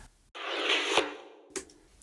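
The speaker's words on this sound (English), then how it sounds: "The way I recorded the tap dancing pattern, I recorded myself doing the same phrase a couple times" Several layered takes of a tap dancing phrase stacked together make a thick, hissy burst of taps lasting about a second, followed by a brief sharp tap after a short gap.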